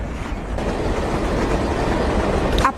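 A prototype train in an anime runs with a loud, steady rumble and rattle that fills the whole stretch, with a brief brighter whine rising near the end.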